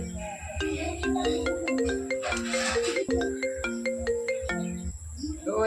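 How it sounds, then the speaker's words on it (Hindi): A mobile phone ringtone plays a bright, repeating electronic melody of clear stepped tones for several seconds in a domestic setting, loud and close, with faint voices around it. "तोरे फोन आवत रहा तेरे मोबाइल पे"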